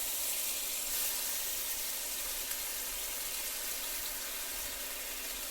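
Tomatoes added to hot olive oil with garlic, sizzling in a pan: a continuous bright crackling hiss, close and steady, with no talking.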